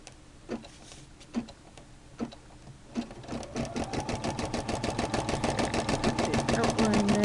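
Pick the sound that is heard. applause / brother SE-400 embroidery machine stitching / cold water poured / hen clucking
brother SE-400 embroidery machine stitching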